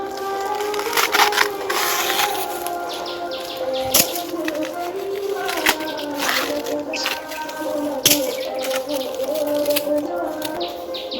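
Tough outer layers being stripped from a banana stem (thor) for a vegetarian dish, giving repeated close, crisp fibrous tearing and cracking snaps over a steady rustling background, with sharp splintering peaks every second or two.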